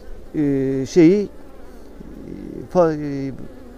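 Honey bees at an opened, multi-box hive give a low, steady buzzing drone close to the ear, while someone speaks over it in a few short bursts.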